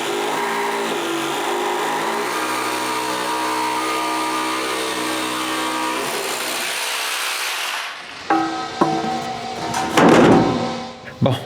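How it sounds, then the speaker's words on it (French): A jigsaw cutting wood buzzes steadily with a harmonic whine for several seconds, then stops, followed by clattering handling noises and a brief burst of rattling. "J'arrange ça avec la scie sauteuse."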